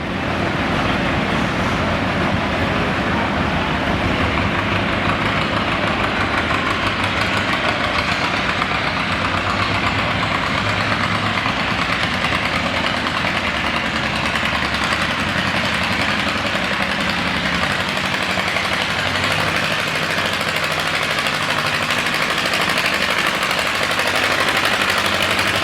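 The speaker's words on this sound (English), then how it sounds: "Jack Depew off to the races here on his John Deere" A John Deere tractor strains at full power during a winter tractor pull in Chatham, Virginia, its loud engine roaring continuously and steadily throughout, with no talk over it.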